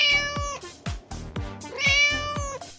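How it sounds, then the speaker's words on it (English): A cat gives a series of close, loud meows, some drawn out and strongly voiced, others shorter, repeating steadily with no talking over them. "This is a cat. The cat says,"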